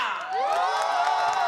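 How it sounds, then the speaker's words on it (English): A home crowd at the IFSC speed climbing World Cup in Mokpo cheers loudly for a Korean climber, with high-pitched shouts and whoops rising over sustained roaring. "There they are, that's home support cheering on."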